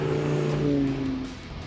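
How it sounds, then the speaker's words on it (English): A naturally aspirated Audi R8 engine revs briefly, its tone rising quickly and then falling away, heard moderately faint and alone. "I doubt they'll ever match the free-revving crispness and clarity of a naturally aspirated engine like this"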